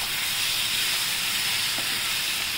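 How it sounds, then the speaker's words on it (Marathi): Moong dal sautéing in masala paste in a pan, a steady close sizzle and hiss that stays even and continuous with no talk. "मुगाची डाळ टाकली आपण ती जरा परतून घेऊया"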